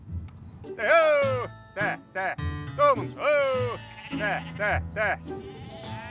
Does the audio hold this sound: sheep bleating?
yes